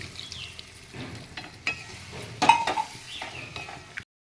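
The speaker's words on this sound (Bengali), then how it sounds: "এবার আমি একটু উষ্ণ গরম জল দিয়ে দিচ্ছি" Warm water poured into soybeans and potatoes frying in a pan, a faint sizzle that flares into a brief hiss and bubbling, close and quiet, then cuts off.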